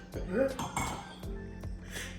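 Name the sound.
drinking glasses clinking together in a toast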